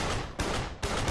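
Machine gun fire in the video game Duke Nukem Forever, a dense, loud burst of rapid shots with two sharp fresh onsets, heard alone.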